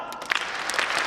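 Audience clapping together on cue at a live kick-off event, a short burst of crowd applause filling the hall, fairly loud and close.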